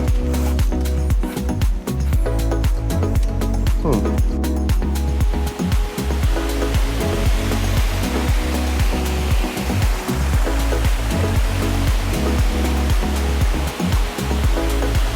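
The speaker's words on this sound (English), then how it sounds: "You have a creek here in the mountains." A mountain creek in Costa Rica rushes steadily over rocks, a loud continuous broadband roar heard up close throughout with no talking.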